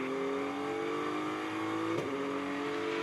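Onboard engine sound of the number 32 BMW GT race car at Hockenheim during a GT Europe race: a loud, steady high-revving drone with a quick gear shift around the middle.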